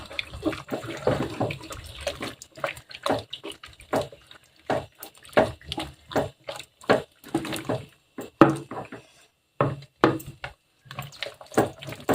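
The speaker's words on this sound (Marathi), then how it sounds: "आता परत पाणी ॲड केलं मी" Water added to a pot of wheat kurdai batter, a series of short, close sloshing splashes and pours in an irregular rhythm, with brief quiet gaps between them.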